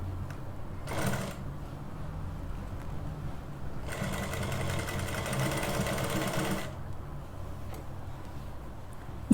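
Domestic sewing machine stitching a button placket on cloth, two bursts of rapid rattling needle clatter, a short one and a longer three-second run, with quiet pauses between.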